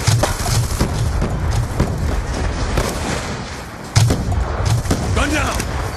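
The war machine grenade launcher in Black Ops 2 fires repeated heavy, booming thumps amid battle noise, with in-game voice lines faintly audible.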